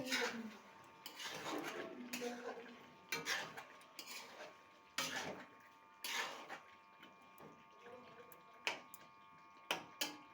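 Chicken being stirred in a pot over a low flame, giving repeated scraping and clinking strokes in irregular bursts, close and moderately loud, with quieter pauses between.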